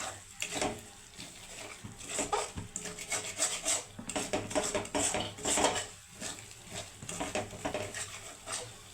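Spice paste for a nihere fish tobga is sautéed in a pan with salt, a utensil scraping and stirring steadily against the metal with light clinks and a sizzling rub, close and continuous, with no talk.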